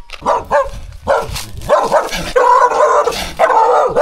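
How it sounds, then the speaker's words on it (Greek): A small dog barks close by in quick, repeated yaps with short whimpering yips, loud and continuous for several seconds. "Τι γαυγίζει μωρέ, το μικρούλι μωρέ."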